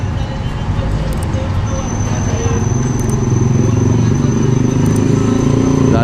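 A kolong-kolong motorcycle tricycle delivering parcels: a steady, loud engine drone with road and traffic noise throughout, close by, with voices talking over it.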